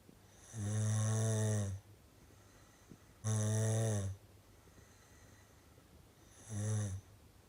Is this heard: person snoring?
yes